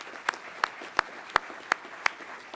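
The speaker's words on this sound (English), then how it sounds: "So please, a round of applause for our support agencies." Slow, evenly spaced single claps, about six in a row, sound at a military undergraduate pilot training graduation ceremony in a large hall, fairly faint and with no crowd swell.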